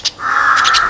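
Tame birds out of their cage give a single loud, harsh, drawn-out call close by, with a brief sharp note just before it.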